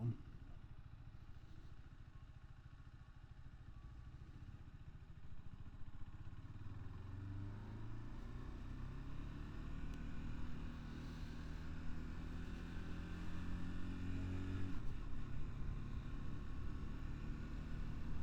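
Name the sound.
KTM RC390 motorcycle being ridden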